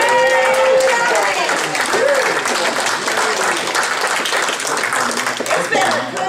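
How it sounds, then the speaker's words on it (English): Steady applause from a crowd at a club barbecue dinner, loud and continuous throughout, with voices calling and chatting underneath the clapping. "can we give a round of applause for Joni"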